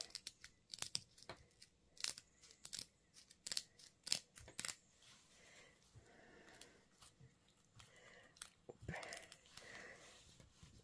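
Scissors snip through cross-stitch embroidery fabric in a quiet room, giving a series of sharp, close clicks and crisp cuts with small rustles of cloth between them.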